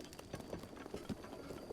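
Hooves of a wild horse clip-clop in Zelda: Breath of the Wild, a quick uneven patter of soft thuds under a steady ambient bed, moderately near.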